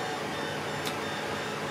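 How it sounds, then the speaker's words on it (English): A 3D printer runs steadily, giving a continuous close hum with a low vibration as the bed and arms move; no one speaks. "there's a low frequency vibration when the bed and arms move"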